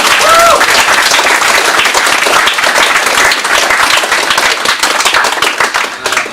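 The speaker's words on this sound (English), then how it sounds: "Huge round of applause, please," An audience gives Dan Jacobs a strong, sustained round of applause, dense close clapping that stays loud for several seconds before thinning slightly toward the end.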